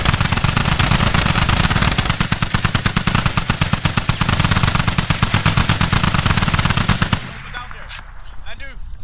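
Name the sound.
grenade explosions and gunfire in Squad video game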